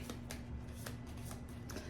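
A deck of oracle cards is shuffled in repeated quick riffles, soft papery flutters coming in a steady rhythm close by.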